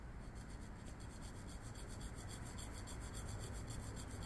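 A pencil lays light shading lines on paper for a sphere drawing, a soft, steady rubbing rasp, close and faint, continuing without pause.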